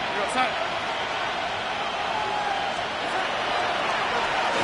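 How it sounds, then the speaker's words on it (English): Steady roar of a stadium crowd in a football video game, a dense wash of cheering that holds level and swells slightly toward the end, with no clear voices standing out. "Crowd noise rises."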